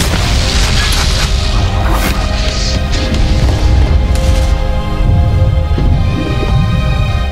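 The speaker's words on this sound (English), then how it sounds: "The huge explosion causes the base to collapse" A huge explosion collapses a base: loud, deep booming blasts and rumbling crashes fill the space, with sharp debris-like cracks over a heavy, sustained low roar.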